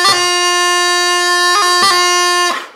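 Bagpipe E doubling played with the F grace note on the beat, a sustained close chanter note over the drone with brief grace-note flicks around one and a half and two seconds, loud and alone.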